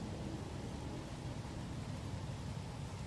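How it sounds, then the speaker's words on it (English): Acid rain falls steadily on a toxic-atmosphere planet in No Man's Sky. A soft, even hiss of rain with a low rumbling undertone continues quietly and without a break, and no one speaks. "So it's acid rain."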